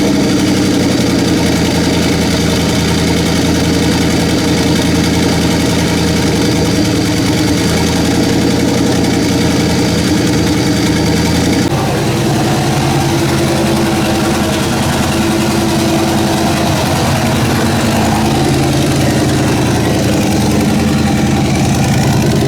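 A turbocharged LS V8 idling in a car, a loud continuous droning rumble with a steady low throb that shifts slightly in pitch midway, close and unbroken with no talk.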